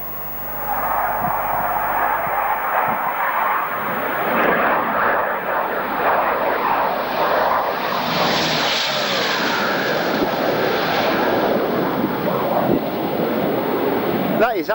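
A Bristol Britannia propeller airliner flies past at RAF Kemble, a steady loud drone building and sweeping through mid-pass over strong wind buffeting, with no talk.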